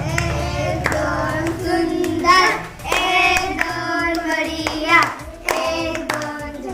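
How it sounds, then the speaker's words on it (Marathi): Children in a classroom clap loudly together in rapid bursts, with a short pause in the middle and some voices heard among the applause. "तिच्यासाठी पण जोरदार टाळ्या झाल्या पाहिजेत"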